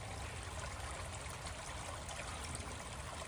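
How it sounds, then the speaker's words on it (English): A small waterfall spills into a stream on a wet woodland trail in Thorndon, Essex, giving a soft, steady, continuous trickle and rush of water with no other sounds. "So that there is the Thorndon mini waterfall."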